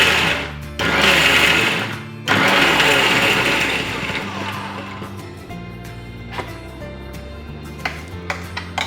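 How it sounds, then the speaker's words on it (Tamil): A kitchen mixer grinder whirs loudly while grinding onion chutney, running in two close bursts with a brief stop between, then winding down into quieter clatter and handling sounds. "ஸோ இப்போ அரைச்சி முடிச்சாச்சு."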